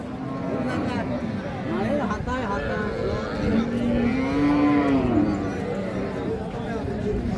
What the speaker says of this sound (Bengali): গাভী এবং বাছুর।